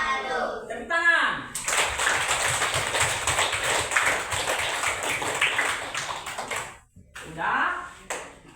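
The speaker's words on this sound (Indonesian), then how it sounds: "Tepuk tangan." A classroom group applauds after a group presentation with a burst of brisk clapping lasting about five seconds. Voices speak before and after it, and the clapping fades abruptly.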